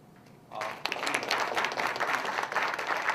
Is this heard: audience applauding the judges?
yes